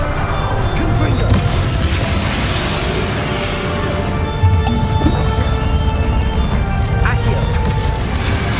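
A Confringo blasting spell from the game Hogwarts Legacy erupts in a loud, crackling blast of fiery bursts and debris, with a second booming hit partway through amid ongoing combat noise.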